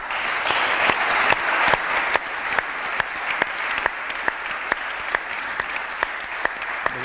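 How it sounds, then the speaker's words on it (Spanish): An audience applauds at a political round table in Vitoria-Gasteiz, steady dense clapping with a few sharp louder claps standing out at regular moments, continuing evenly throughout. "Un gran aplauso, por favor."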